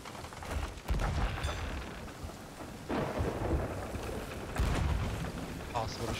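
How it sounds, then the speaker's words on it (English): Thunderstorm in a shooting video game: loud, continuous rain roar with rumbling thunder swells building near the start and again midway, filling the whole stretch without pause. "Possible to shoot in the storm."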